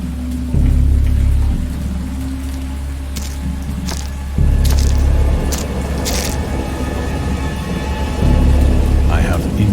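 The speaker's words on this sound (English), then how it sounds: "Indistinct recollections of a great storm sometime after I reached the boat." Heavy rain pours steadily while deep thunder rumbles roll in three loud waves, close and booming.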